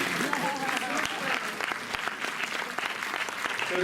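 An audience at a film talk for "Portrait de la jeune fille en feu" at the Méliès cinema in Montreuil breaks into sustained applause, a dense, even roar of many hands clapping throughout.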